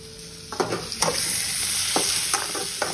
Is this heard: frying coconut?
yes